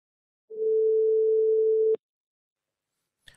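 A telephone line tone sounds while calling a photo shop: one steady, clean tone lasting about a second and a half, cut off by a click, then near silence.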